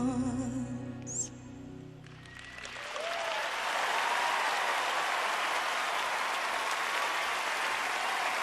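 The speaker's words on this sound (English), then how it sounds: "Give yourself some applause." An audience at the Academy Awards ceremony bursts into sustained applause that swells and holds steady, following a brief passage of music and voices.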